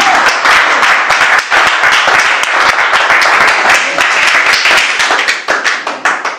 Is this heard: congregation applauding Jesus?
yes